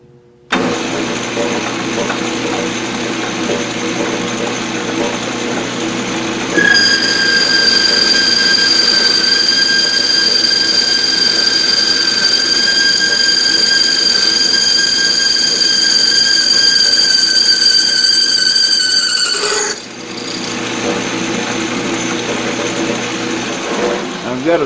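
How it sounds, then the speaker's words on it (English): Metal lathe boring a bearing hole in a belt grinder wheel, a steady machine hum that shifts into a loud, sustained high-pitched cutting whine for about thirteen seconds, then drops back to motor hum. "now it's to bore the hole for the bearing in each side of the wheel"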